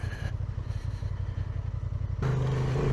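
A Honda Transalp 750 motorcycle on an off-road trail, its engine putting out a steady, pulsing mid-pitched drone close by that rises in pitch as it revs up near the end.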